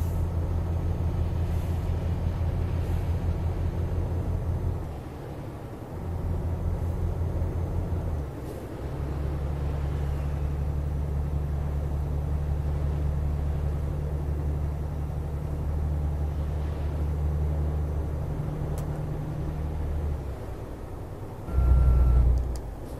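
Steady low engine drone of a Peterbilt 389 truck towing 23 tons in Euro Truck Simulator 2, with brief dips as gears shift and a louder surge near the end, no talk.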